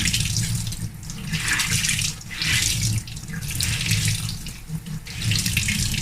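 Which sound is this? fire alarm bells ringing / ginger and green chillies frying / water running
water running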